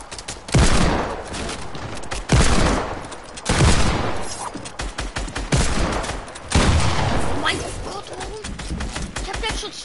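Bursts of gunfire ring out in a Fortnite match played on PS4 Pro, several loud volleys of shots in quick succession across the clip, with players talking over the action.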